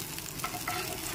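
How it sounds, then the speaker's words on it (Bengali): Eggplant pieces frying in a pan while being stirred, a soft continuous sizzle with brief scraping strokes of the spoon, quiet and close. "বেগুনগুলো নেড়ে চেড়ে ভেজে নিয়েছি"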